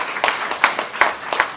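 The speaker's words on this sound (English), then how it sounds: "let's give him another round of applause" Audience applause at a church launch event, with a few scattered claps rising and falling in uneven bursts. The clapping is fairly close and thin, with no talking over it.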